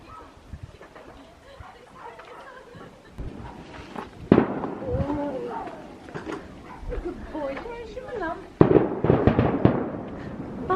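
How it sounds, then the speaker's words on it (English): Sharp fireworks bangs and crackles pop off in bursts, loudest near the middle and end, with people talking excitedly throughout and a dog faintly barking. "That's your firework display, guys."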